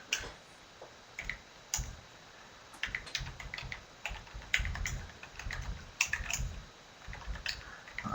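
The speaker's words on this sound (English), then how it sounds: "I'm typing now." Computer keyboard typing in a quiet room, a steady run of light key clicks with irregular bursts and short pauses, fairly close, with no voices.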